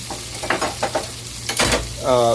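Metal utensil scraping and stirring in a cast iron pan over a steady sizzle, several rough strokes close by, ending in a louder frying hiss.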